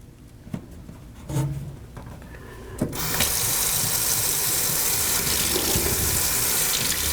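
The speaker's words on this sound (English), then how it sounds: "First thing we're going to do is fill this thing up with warm water." Warm water from a laundry sink tap gushes into the basin with a steady, loud rushing flow after a few clicks and clunks as the drain is plugged and the tap is turned on.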